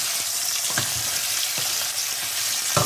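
Beef roulades fry in a pan, a dense, steady close sizzle with occasional clicks and scrapes as they are turned and stirred.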